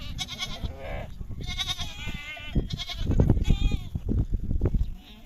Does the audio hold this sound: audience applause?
no